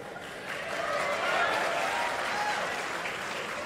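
Distant, fairly faint crowd applause fills a large outdoor gathering, a steady wash of many hands clapping that swells after the first half second and holds evenly, with no voices over it.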